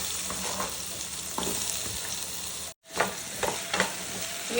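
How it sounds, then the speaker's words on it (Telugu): Pumpkin pieces frying in oil in a pan for chutney, a steady close sizzle broken by a brief gap and then renewed stirring scrapes, with no talking. "అలాగే ఇంకో స్పూన్ ఆయిల్ వేసుకొని ఇప్పుడు గుమ్మడికాయ ముక్కలు వేసుకుందాం."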